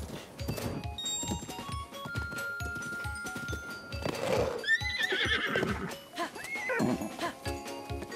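A horse in the open-world game The Legend of Zelda: Breath of the Wild whinnies loudly and close by, with two rising and falling neighs around the middle of the clip over a steady background of game music and ambience.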